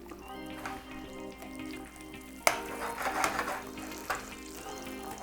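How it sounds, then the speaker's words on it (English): Caramelized onions sizzling in melted butter in a pan while pierogi are prepared, a soft continuous fry with some stirring scrapes and a brief clatter midway, fairly quiet with no voices. "You get a little sizzle, sizzle."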